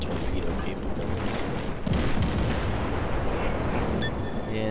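Cruiser guns firing high explosive shells in World of Warships, heavy booming salvos over a constant rumbling battle bed, with one strong blast near the middle.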